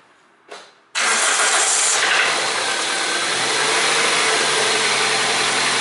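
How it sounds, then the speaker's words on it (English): A car engine with failing connecting rod bearings cranks with a short burst, pauses, then fires and settles into a loud, steady running roar up close, with no voices. "now I start this engine that we can listen this engine bearing failure sound"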